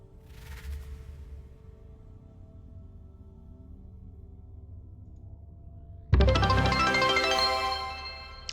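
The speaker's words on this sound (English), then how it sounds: "That's the sound of a subscriber goal." The subscriber goal chime from the Dune Imperium Digital game plays as a sudden bright, ringing tonal burst that follows a quiet passage of low background hum and fades out over about two seconds.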